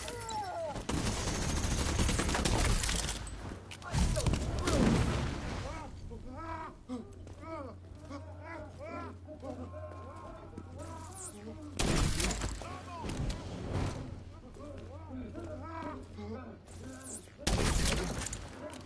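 Grenade launcher blasts and gunfire in The Division 2, with loud bursts of explosions and shots recurring every few seconds over a steady game soundtrack.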